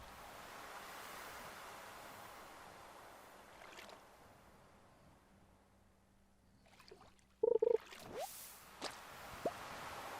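Soft washing water noise from the video game Stardew Valley fills the background, with a few plops and clunks near the end.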